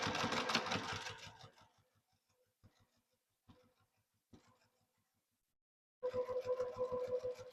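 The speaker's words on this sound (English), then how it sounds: "You're just going to put that under the machine deck and stitch across there." Sewing machine stitching across the top edge of a fabric zipper pocket for a purse, a close, loud steady run of rapid needle strokes, a quiet pause with a few faint clicks, then another steady burst of stitching.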